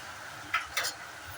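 Potato gravy with garam masala being stirred and sautéed in a pan: two short scraping clinks of a spoon against the pan stand out over a quiet, low background.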